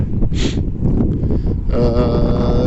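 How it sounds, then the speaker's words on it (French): Wind gusting across a garden plot in March, a steady broadband rush with a brief hiss and some rustling, followed by a tonal hum toward the end. "du vent à tous les sauces et à toutes les vitesses"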